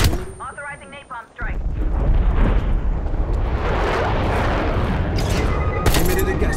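Napalm strike in Black Ops Cold War multiplayer: after a short stretch of game voice, a loud sustained roaring blast swells in and rumbles on for several seconds, with sharper bursts near the end.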